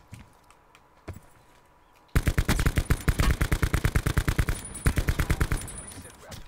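Gunfire in a shooter video game: a few isolated faint cracks give way to a loud, sustained burst of rapid automatic fire that rattles on with brief pauses.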